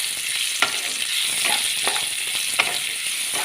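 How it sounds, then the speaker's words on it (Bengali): Large sliced onion frying in a pan of oil, a constant bright sizzle with a few faint stirring scrapes over it, close and even. "এবারে এর মধ্যে দিয়ে দিচ্ছি এই যে স্লাইস করে কেটে রেখেছি পেঁয়াজ।"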